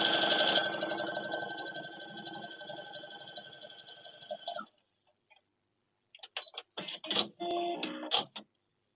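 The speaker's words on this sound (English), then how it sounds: "I'm just going to sew this whole row together using a 1/4 inch" A sewing machine runs steadily while stitching a quilt row with a 1/4 inch seam, a close mechanical hum that stops abruptly and is followed by scattered clicks and handling sounds.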